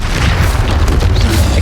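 A Confringo blast spell going off in a video game, a loud booming burst with a sustained rumbling tail and no voices.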